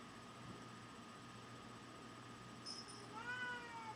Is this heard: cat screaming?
yes